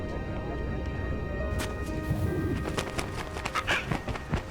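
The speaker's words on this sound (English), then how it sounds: "Oh, the bird." A bird coos softly in Metal Gear Solid 2 over a steady background hum, with a few brief clicks and knocks scattered through.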